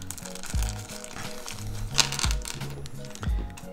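Crinkling of a plastic Ziploc pouch being handled and opened during a drone frame build, a few close, light rustling crunches in quick bursts.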